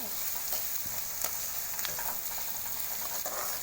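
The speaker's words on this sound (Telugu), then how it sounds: "బాగా తిప్పాలి వాటిని, కలిపేసి లోకి మీడియం ఫ్లేమ్లో కొంచెంసేపు చేస్తే" Okra (ladyfingers) fries in a pan over a medium flame with a steady, dense sizzle, while a spoon stirs it and gives occasional light scrapes and taps.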